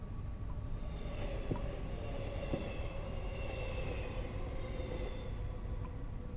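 A train on a rail line in a horror video game rumbles steadily with a low, even drone and faint metallic tones, heard alone at a moderate distance.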